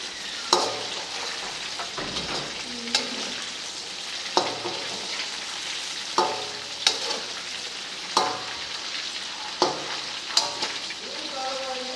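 Chicken sizzles and fries steadily in a karahi for a Peshawar-style charsi karahi, with a constant close hiss broken every second or two by sharp scraping stirs of a utensil against the metal.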